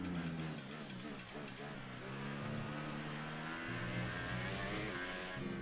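A Formula 1 car engine in the racing game F1 2018 at Bahrain screams up and down through the gears, loud and close, with rising revs, quick shifts and bursts of acceleration.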